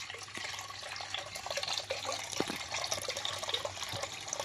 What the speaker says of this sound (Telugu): ఎసురు వాటర్ అయితే వడగట్టేద్దాం